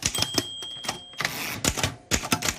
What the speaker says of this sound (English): It's got this beautiful kind of click, clack, clack, and it's just so wonderful to hear that.